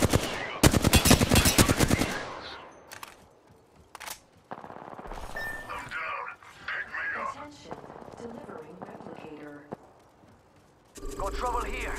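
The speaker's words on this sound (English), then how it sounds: "Getting shot." Bursts of rapid automatic gunfire ring out in an Apex Legends match, with a loud sustained volley at the start, scattered single shots and short bursts after, and a voice talking intermittently between.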